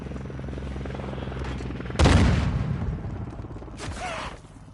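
A grenade blast in Call of Duty DMZ: one sudden loud boom that rolls off over a couple of seconds, followed by another softer burst, over steady engine-like rumble with no talk.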